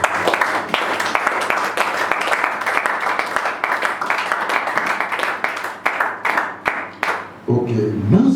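Church congregation clapping and applauding together, a dense, close burst of many hands that thins into a few rhythmic claps, with a voice speaking over it near the end.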